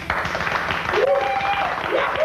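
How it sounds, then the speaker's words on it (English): A TV studio audience on the Headbangers Ball gives brief, moderate applause, with a few voices and cheers mixed in. "You have to beg for applause here on the Headbangers Ball"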